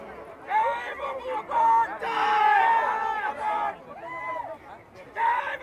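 Crowd chatter at a village fair, a busy hubbub of many voices rising and falling together, some louder calls standing out close by.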